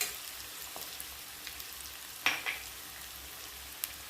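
Onion with garlic frying in a pan for Vidarbha-style brinjal bharit, a soft steady sizzle with a few sharper spatters and crackles, fairly quiet, no voices.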